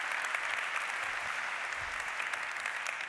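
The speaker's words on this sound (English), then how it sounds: "Big round of applause" Steady applause from a keynote audience, a dense wash of clapping that stays even and loud throughout with no voices standing out.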